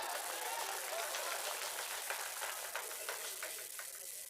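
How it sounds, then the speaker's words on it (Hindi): Audience applause at a mushaira, an Urdu and Hindi poetry gathering, rising as a dense, steady patter of many hands clapping from a distant crowd that holds for several seconds. "तो एक बार ताली बजा के बताइए"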